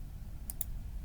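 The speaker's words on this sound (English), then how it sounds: "Right click." Two quick, faint computer mouse clicks in close succession over a quiet room hum.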